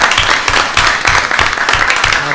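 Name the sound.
audience applause at school board meeting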